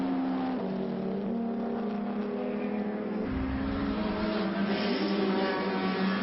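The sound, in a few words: race cars braking through the Woodcote chicane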